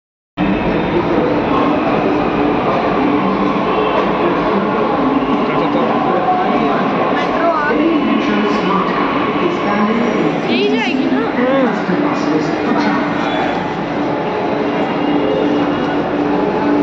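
Metro train noise on a station platform while passengers wait, a steady loud rumble and hum filling the scene with a passing screech partway through, under a busy crowd background.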